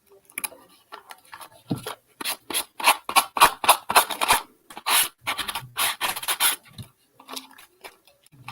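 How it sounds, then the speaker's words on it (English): Decoupage piece sanded by hand, close scratchy rubbing strokes in quick irregular bursts, rasping and fairly loud, with short gaps between passes. "Just try to get this sanded off here."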